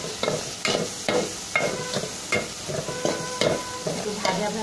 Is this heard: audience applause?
no